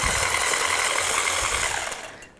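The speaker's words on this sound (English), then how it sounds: "Now we'll give those a quick mix with our mixer." Electric mixer whirring through eggs and cookie ingredients for gluten-free chocolate chip cookies, a steady close buzzing drone that runs evenly, then winds down and stops.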